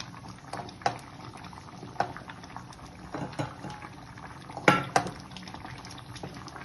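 Rice simmers in water in a pot for jaggery sharkara payasam, bubbling close by with irregular soft pops and a few sharper blips over a low, steady murmur.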